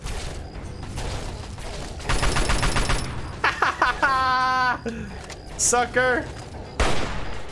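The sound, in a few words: gunfire in video game Fallout 3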